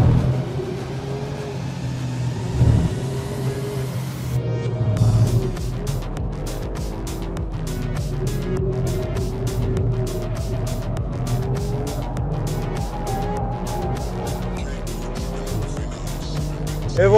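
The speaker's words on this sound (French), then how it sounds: "on finit sur une belle note, le petit drift" Alfa Romeo Giulia Quadrifoglio with a 510 hp engine roars loudly around the track to finish a timed lap, with rapid gear changes and a drifting slide at the end, heard close from on board.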